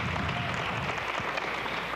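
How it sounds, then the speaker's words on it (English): Dense applause from a middle school debate audience fills the room, a steady wash of many hands clapping at close range with no talk over it. "We'll give them a round of applause."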